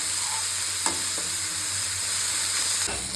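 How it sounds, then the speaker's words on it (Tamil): Onions frying in sesame oil make a steady, close sizzle that holds evenly throughout, with a couple of soft knocks from a stirring spoon and no one speaking. "இதில் நல்லா நம்ம ஆனியனை நல்லா ஃப்ரை பண்ணிக்கலாம்."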